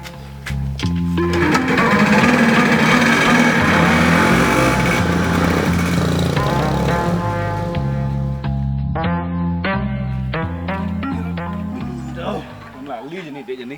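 A motorcycle engine runs loud and steady near the microphone, with a repeating mechanical rhythm that holds throughout before easing slightly toward the end, as people talk over it.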